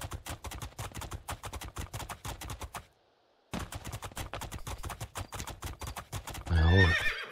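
Rapid galloping hoofbeats of a horse in the PC video game Two Worlds 2 during a race pound steadily, pause briefly, then resume, ending with a loud horse whinny near the close.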